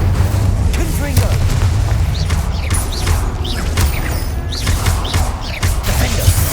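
Explosive and fire spells in Hogwarts Legacy combat, a rapid, loud barrage of booming blasts and crackling impacts over a heavy low rumble, with repeated bursts throughout.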